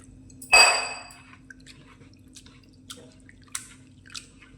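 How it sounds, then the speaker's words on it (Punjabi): Water splashes once loudly as a glass is poured over soaked poha in a kitchen bowl, followed by a few faint drips and small wet squishes as it settles. "ਇੱਕ ਵਾਰੀ ਫੇਰ ਆਪਾਂ ਗਲਾਸ ਇੱਕ ਪਾਣੀ ਪਾ ਕੇ ਧੋ ਲੈਣੇ ਆ"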